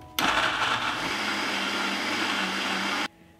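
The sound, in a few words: blender blending peppers and garlic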